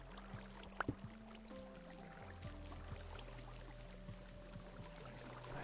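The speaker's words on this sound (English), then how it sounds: "That should come down as a straight wall of water" Water flows down as a straight wall in the Minecraft video game, a faint steady pouring wash under quiet tonal background music, with a couple of brief clicks early on.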